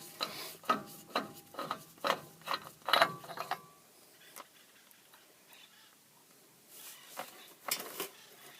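Metallic ratcheting and clanking while a Dana 60 dually hub comes off with a spindle nut socket, a run of sharp clicks and knocks for several seconds, a quieter pause, then a few more clanks near the end.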